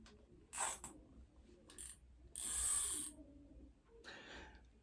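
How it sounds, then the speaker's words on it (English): Fishing line pulled off a fishing reel in bursts, each pull a quick whirring, ratcheting rasp of differing length separated by pauses, close and fairly quiet. "Look, I'm just pulling line out now."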